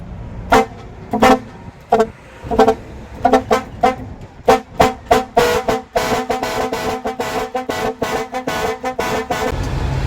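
A six-trumpet air horn on a vehicle blasting loudly and close, in short rhythmic honks that quicken into a rapid, pulsing stream of tooting.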